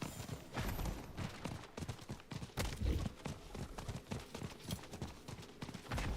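Galloping hoofbeats of a horse being ridden in the Diablo IV video game, a quick rhythmic clip-clop of close, fairly soft thuds repeating steadily throughout.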